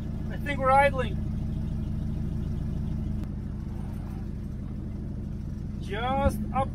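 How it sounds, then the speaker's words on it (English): A Ford Mustang II engine idles with a steady low rumble in a driveway, continuous and fairly close, while a voice speaks briefly near the start and again near the end. "I think we're idling."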